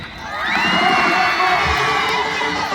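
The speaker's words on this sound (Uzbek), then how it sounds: "Bitta qarsayga eshitaylik." A crowd gathered at an event erupts in loud, sustained cheering with shouts and whoops, a dense roar that swells and holds steady close to the listener.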